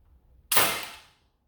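A cheap plastic toy blaster fires a dart, whose spring and plastic rod push it out: one sharp, loud pop with a short fading hiss after a quiet lead-in, with no one talking.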